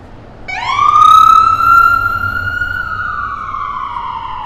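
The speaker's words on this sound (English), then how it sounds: "Oh, we got an ambulance." On a Friday night in Midtown Manhattan, a passing ambulance siren starts with a sharp rising wail, then holds a long, loud tone that slowly fades over steady city traffic noise.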